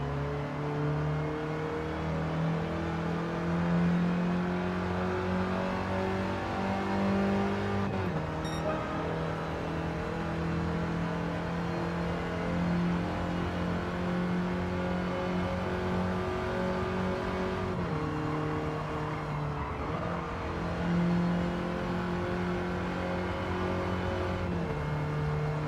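Several 1980s production cars race at Goodwood in a video game, with steady engine drones and whining revs layered together under sustained acceleration and faint gear shifts, continuous and fairly close with no talk.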